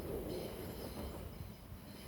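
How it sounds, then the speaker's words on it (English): A train passing near a castle, heard as a steady, faint rumble of rolling wheels and carriages that continues throughout without talk. "So we've got a train by the castle."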